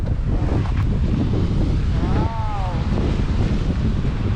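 Strong wind buffeting the microphone by the sea at Corfu, Greece, a constant roaring rush with surf underneath and a faint brief whistle-like tone midway.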